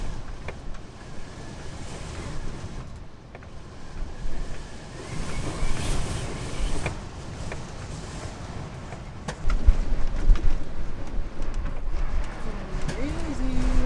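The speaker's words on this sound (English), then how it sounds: "I have to show you how windy it is." Strong gusty wind on a clifftop buffets the microphone with roaring rumble, surf-like wash in the background, and occasional muffled voices.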